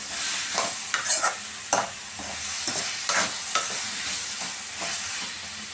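Pumpkin is fried and tossed in a pan, with sharp spatula scrapes and knocks landing every second or so over a soft, steady sizzle, up close with no voices.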